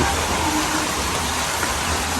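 Rain falls steadily at a resort in Dinalupihan, Bataan, making a dense, even hiss that is loud and continuous throughout.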